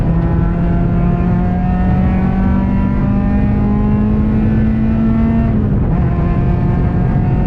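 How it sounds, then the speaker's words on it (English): A ChampCar endurance race car at CMP accelerates on track in light rain, its engine loud and close with a steadily climbing whine that drops sharply near the end as it shifts, then pulls again. "As Mark sends it up the inside with a little bit of rain coming down"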